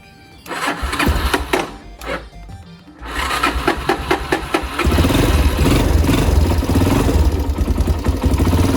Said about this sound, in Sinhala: නැත්නම් අයිඩල් එකේ බයික් එක තියෙනවා.